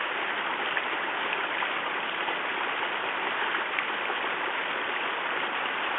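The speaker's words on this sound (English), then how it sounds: "Mountain streams are a great spot for a little bath." A steep mountain stream on the Appalachian Trail near Rockfish Gap, just below Shenandoah National Park, rushes in a steady, close, unbroken wash of water with no voices over it.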